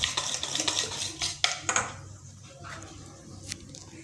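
Dhokla batter mixed with a spoonful of oil in a bowl: a few close wet squishing strokes and spoon clinks against the bowl in the first two seconds, then quieter, with faint background noise.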